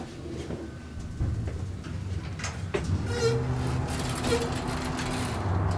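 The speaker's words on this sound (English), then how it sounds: "I do like the new motor on this." The new motor of the modernized Elmwood Park garage elevator hums and rumbles steadily under a low mechanical drone, with faint clicks and a brief tonal whine partway through, no talking.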